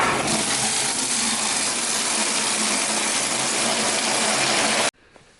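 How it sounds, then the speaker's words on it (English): About three gallons of water pours steadily and loudly into a bucket, a continuous gushing rush that stops abruptly near the end, leaving a faint clatter. "I fill up a bucket with about 3 gallons of water"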